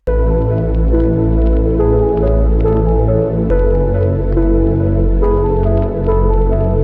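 Bright bell-like tones chime in a repeating melodic pattern over a steady low synth bass loop in a hip hop beat, clear and continuous with no talking.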